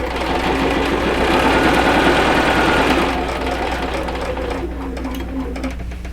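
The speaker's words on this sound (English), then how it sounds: "that's where I stop stitching the straight line and then angle out towards the corner" A sewing machine stitches binding onto a quilt, giving a steady, fast, loud mechanical whirr with rapid needle rhythm that eases slightly partway through, running alone and close.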